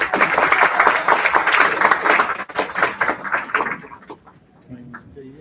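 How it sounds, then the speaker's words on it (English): A crowd claps loudly in a round of applause welcoming dignitaries at a university AI day event, the sound fading out after about four seconds. "May I request everyone present here to welcome our dignitaries with a huge round of applause"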